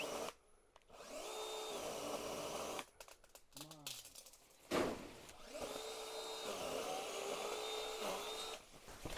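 A cordless pole chainsaw cuts through tree branches, its motor whining in bursts with revving and brief stops, while someone talks over it.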